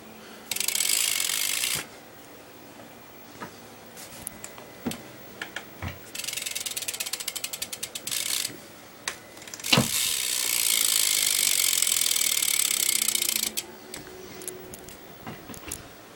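BMX bike fitted with Odyssey parts, including Odyssey brake pads and Aiken tires: a freewheel ratchet clicks in rapid bursts as the wheel spins, with scattered knocks and rattles between, close and loud.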